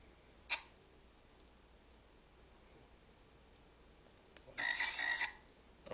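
A frog toy gives a short croak near the start and a longer buzzy croak toward the end, both fairly quiet against a faint background hiss.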